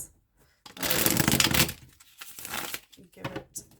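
Tarot cards being shuffled by hand in bursts of papery riffling and flicking, a long run followed by shorter ones with brief pauses between, close and fairly quiet.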